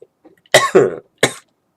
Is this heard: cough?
yes